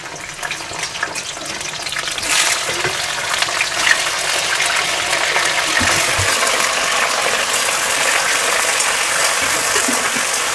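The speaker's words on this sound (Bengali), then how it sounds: "আমার কড়াটা গরম হয়ে গেছে, আমি তেল দিয়ে দেব। আমি ভেন্ডিটা ফ্রাই করে নেব।" Okra (bhindi) frying in hot oil in a wok gives a loud, steady, dense sizzle that swells after the first couple of seconds and stays constant with no talking.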